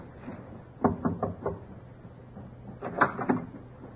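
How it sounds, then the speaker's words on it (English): Knocking on a ship's cabin door in a radio drama, two quick groups of three or four firm raps separated by a pause, close and clear with no talk over them. "Captain knocked."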